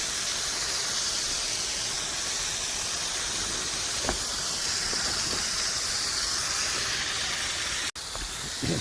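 Steady water spray hisses loudly and continuously as it rinses deck stripper and stain off wooden boards, with a brief cut near the end.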